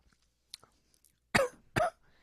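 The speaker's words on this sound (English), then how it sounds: "he's coughing." A man at a craft beer review gives two short, sharp coughs close by after a few faint clicks, with quiet in between.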